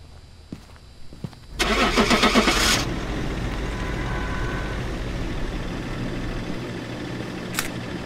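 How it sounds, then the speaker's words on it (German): The school bus engine in Phasmophobia cranks with a few clicks, catches with a loud rumbling start, then settles into a steady idle; a brief sharp sound comes near the end. "Schnell, schnell, der Schulbus fährt schnell und pünktlich los hier."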